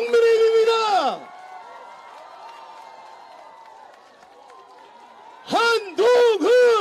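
A crowd at an outdoor political campaign rally at a crossroads in Icheon applauds and cheers for several seconds, a steady moderate clatter set between stretches of an announcer talking through a loudspeaker.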